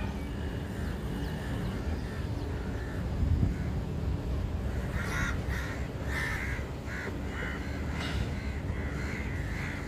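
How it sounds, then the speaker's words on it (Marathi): A flock of crows over open farmland caws in scattered harsh bursts that cluster in the second half, somewhat distant, over a steady rumble of wind on the microphone. "कावळ्यांचा थवा पण अख्खा क्लिअर दिसतोय"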